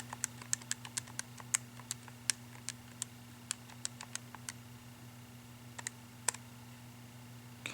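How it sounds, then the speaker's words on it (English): Quick, irregular clicks of small graphing calculator keys being pressed in bursts with short pauses, close and quiet over a faint steady hum. "I begin by typing in the function."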